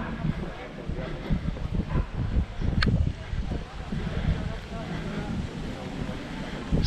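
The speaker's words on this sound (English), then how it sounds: "this area seems to be a little bit windy" Wind gusts across an outdoor spot in Palmanova, rumbling and buffeting the microphone in uneven surges, with faint indistinct voices and ambient noise underneath.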